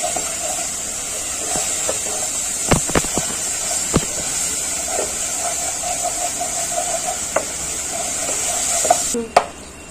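Spice masala with tomato sauce being sautéed in a pan over a gas flame, a steady sizzle under a few sharp scrapes and taps of a spoon against the pan.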